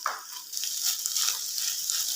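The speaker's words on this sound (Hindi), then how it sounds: "अब जो है हम इसको फ्राई कर लेते हैं" Corn and chopped capsicum frying in a pan, a soft, steady hiss of sizzling oil with a few brief stirring scrapes near the start.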